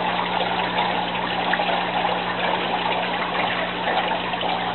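Return line tubes of an aquaponics system pour water into an IBC tank, a steady, even splashing gush with a faint low hum beneath, constant and close throughout.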